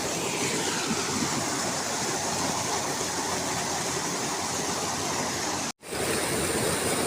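Water rushing steadily through a newly unblocked mountain water line, a loud, continuous broadband flow close by with one brief cutout near the end.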